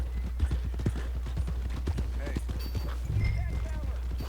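A horse in Red Dead Redemption 2 clip-clops along at a steady walking pace, hoofbeats close and clear, with a brief snort or whinny and talk over the top.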